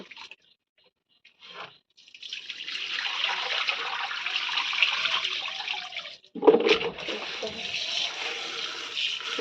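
Boiled mangoes being washed under a steady rush of running water that splashes and gurgles continuously for several seconds, with a sharper splash partway through, close by and with no talking.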